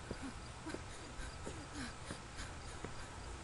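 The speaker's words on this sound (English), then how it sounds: "What are you panting about?" Game character from Remothered panting in short, rhythmic breaths, faint against a steady background hiss.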